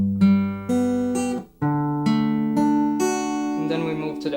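Acoustic guitar fingerpicking the opening bar of a song, with clear plucked notes ringing in an even, repeating pattern, played alone and close.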